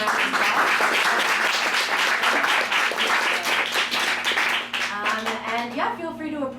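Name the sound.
audience applause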